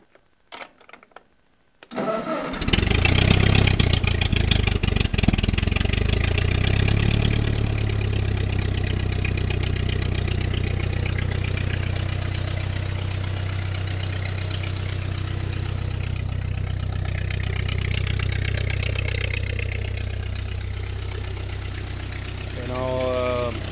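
A Ford 8N tractor engine cranks briefly, catches and settles into a loud, steady idle close by. The rough chugging holds unbroken for about twenty seconds.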